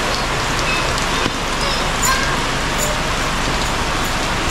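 Steady, dense rain falls during a typhoon, a continuous hiss of drops on surfaces with faint road noise beneath, loud and unbroken throughout.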